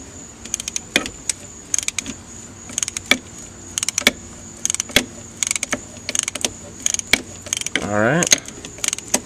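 A socket wrench ratchets in quick clicking bursts while loosening a nut on the drive chain of a Polaris Trail Boss 330 ATV, close and fairly loud, with a short whirring spin near the end.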